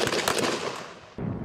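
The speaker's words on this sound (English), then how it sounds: "you're gonna shoot 2, 2, and 2 on steel targets" Gunshots in a shooting competition with steel targets: a loud burst of shots with echoing decay, then another sharp report near the end.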